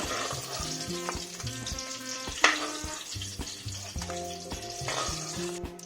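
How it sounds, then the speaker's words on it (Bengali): Eggs frying one at a time in a pan of oil for a Bengali potol and egg curry, a steady close sizzle with a sharp crackling burst partway through, under background music. "এরপরে ডিমগুলো আমি ভেজে নেবো একে একে।"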